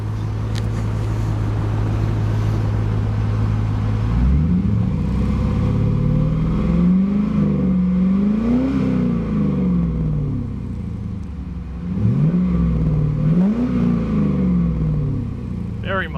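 A 2000 Chevrolet Camaro SS with a 6-speed manual idles with a steady low rumble, then revs up several times, its exhaust note rising and falling in loud, swelling sweeps close by.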